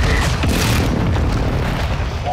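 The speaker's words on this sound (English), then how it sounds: "Friendly precision airstrike inbound." Precision airstrike explosions in Call of Duty: Modern Warfare II land as a loud, sustained rumbling boom that fills the whole clip, dense low-end blasts overlapping without pause.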